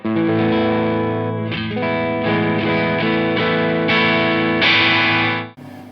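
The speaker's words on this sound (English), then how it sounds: "On the neck pickup, it sounds something like this on channel 1." Overdriven electric guitar on the neck pickup through a Headfirst Alta 100 amp, channel 1, with a warm, rounded tone, strummed chords ringing out steadily for several seconds, then cut off abruptly.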